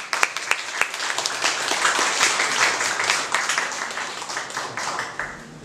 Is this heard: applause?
yes